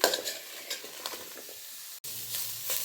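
Onions frying in a pan and stirred repeatedly, a close sizzle broken by scraping spatula strokes at irregular intervals, with a brief dropout near the end before the frying resumes.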